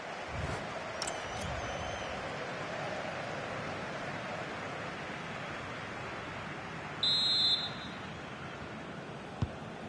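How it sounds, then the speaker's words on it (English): A referee's whistle blows for half-time in the football video game EA FC26, a short, high, shrill blast rising over a steady crowd roar late on, heard fairly clearly but briefly. "And the whistle is sounded for half-time."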